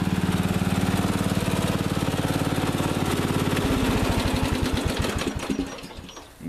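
A Craftsman riding lawn mower, about eight to ten years old, runs steadily with a rapid, even engine putter heard up close, its rhythm shifting and slowing near the end, with no talking.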